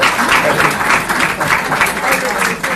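An audience at a talk on populism breaks into loud, dense applause that holds steady through the moment, close and continuous, with a speaker's voice mixed in underneath.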